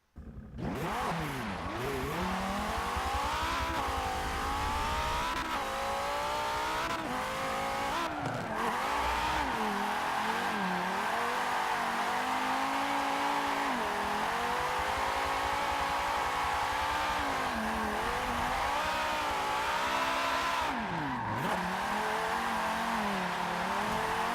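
Audi Sport Quattro drift car running 548 horsepower on a stock turbo, its engine revving hard and steadily for a long stretch, with rising and falling pitch sweeps, occasional sharp drops between revs and possible tire squeal.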